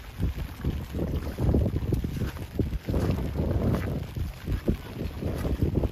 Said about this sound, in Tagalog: ulan na malakas na ulan tapos may kasamang hangin